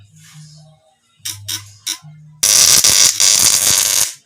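Quiet low hum broken by short bursts, then a loud, harsh, continuous buzzing crackle of a platinum-point ignition with four outputs and four magneto wires firing during a spark test, running steadily for about two seconds.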